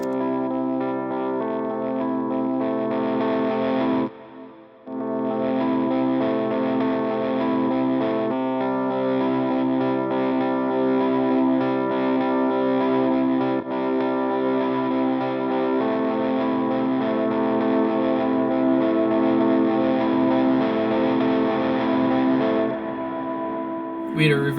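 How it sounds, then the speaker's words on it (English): Electric guitar played through a Lekato mini loop station with reverb and delay added, sustaining layered chords and notes that wash together continuously, with one brief dip into near silence early on before the effected sound swells back. "Let's add some reverb and delay to it."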